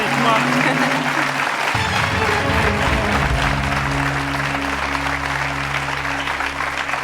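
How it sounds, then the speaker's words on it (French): A TV game show studio audience applauds steadily while sustained musical tones swell in underneath, the clapping continuing evenly throughout. "Applaudissements."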